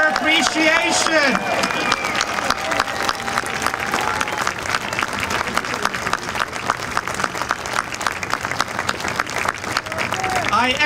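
Crowd applause at a Holodomor memorial dedication in Washington, DC, steady clapping that swells after a voice at the start and continues at a lively, even level to the end.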